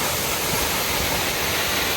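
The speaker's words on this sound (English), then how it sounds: "There's the waterfall." A waterfall on a mountain trail roars as a steady, dense rush of falling water, close and loud, with no voices over it.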